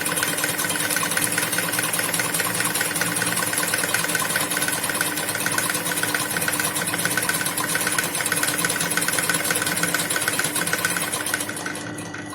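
An embroidery sewing machine stitching a straight line of satin stitch runs in a fast, steady, unbroken mechanical whir close by, holding an even level before easing off at the very end.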